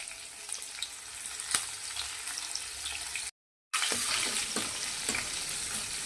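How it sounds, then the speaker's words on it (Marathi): Garlic and green chillies sizzle steadily in hot oil, a continuous crackling fry with occasional stirring clicks, broken by a brief silent gap partway through. "त्यामध्ये आता घेतलेला लसूण आणि हिरवी मिरची आपल्याला टाकून घ्यायची आहे आणि एखादं मिनटं चांगलं तेलामध्ये परतून घ्यायचं आहे"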